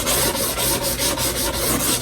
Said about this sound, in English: and then you want to sand it